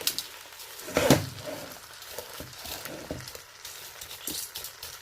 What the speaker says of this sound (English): we're going to actually brown the semiya